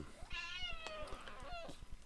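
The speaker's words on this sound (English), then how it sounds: "kitty, you meow at me" A house cat gives a couple of close, clear meows in quick succession, rising and falling in pitch, over a quiet background with no talking.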